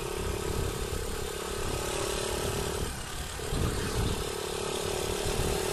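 Honda TMX 125 (CG125) motorcycle engine with a silencer on a bullet pipe, a muffled steady drone up close with mild throttle blips that swell only slightly, staying subdued throughout, with no talking.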